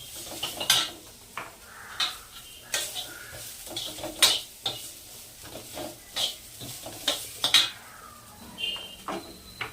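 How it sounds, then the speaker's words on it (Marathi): Grated coconut being dry-roasted in a pan at home, with a spoon repeatedly scraping and clinking against the pan in an uneven rhythm, close up. "खोबरं टाकलं मस्त असं भाजून घ्यायचं."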